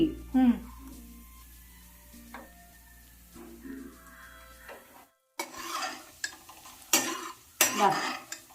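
Melted jaggery for parippu pradhaman being strained, heard as metal clinks and scraping of utensils with intermittent pouring and stirring noises, close and moderately loud, as a voice talks partway through.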